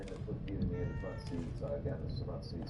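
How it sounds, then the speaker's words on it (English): A cat meows in the video game The Evil Within 2, a few short mews rising over a steady game ambience while someone talks. "Can I pet the cat?"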